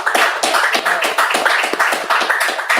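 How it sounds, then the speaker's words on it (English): Audience giving a round of applause at a gathering, a loud, close burst of hand clapping with an uneven, pulsing rhythm that carries on for a few seconds. "Give a round of applause for them."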